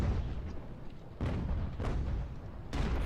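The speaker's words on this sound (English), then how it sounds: "that artillery fire is not... I didn't do anything with that salvo?" Mortar artillery salvo in Ultimate General: American Revolution, with heavy low booms and rumbling blasts overlapping in a continuous barrage, and sharper reports landing roughly every second and a half.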